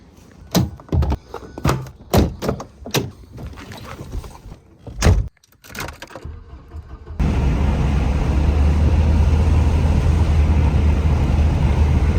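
A restored Volvo Amazon, formerly abandoned, driving along with a loud, steady engine and road drone. A run of sharp thunks like doors or the car body comes first, and the drone then holds evenly to the end.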